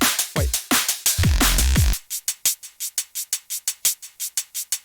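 Short crisp hi-hat samples play back in music production as a steady run of evenly spaced eighth-note ticks, following a few louder tonal hits and a brief sustained bass note at the start.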